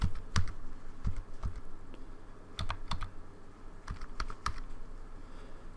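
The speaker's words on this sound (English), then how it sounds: "I'll put the keyboard up to the microphone" Computer keyboard keys are pressed one at a time close up, sharp distinct clicks in irregular small clusters over a steady background hiss, with no voices.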